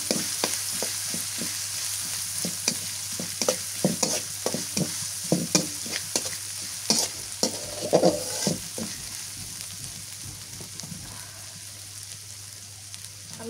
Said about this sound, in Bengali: লাল লাল করে ভাজিয়ে দিই। পেঁয়াজ মরিচ রসুন ভাজা হয়ে গেছে